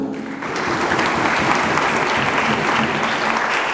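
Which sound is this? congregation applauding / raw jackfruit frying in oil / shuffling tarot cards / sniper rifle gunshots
congregation applauding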